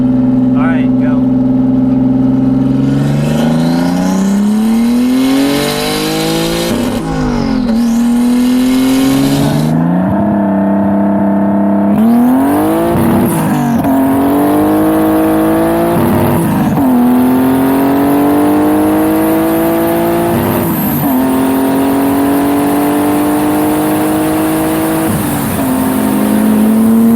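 A big-turbo BMW E36 drift car revs and drives, its engine note rising and falling in repeated loud pulls, then settling into a sustained drone.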